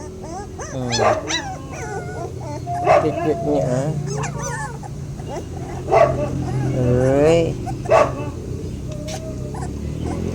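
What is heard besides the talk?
hungry puppies whimpering and barking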